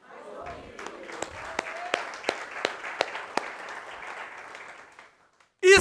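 A church congregation claps during a sermon, a scattered group giving sharp individual claps at an uneven rhythm that fade out, mixed with a voice speaking at the start.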